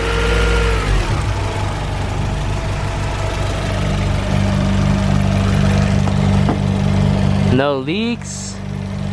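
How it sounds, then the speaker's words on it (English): A swapped-in Honda B16 engine idles close by with a steady, even hum. A person talks over it and a short whining sweep cuts in near the end. "the motor's really quiet"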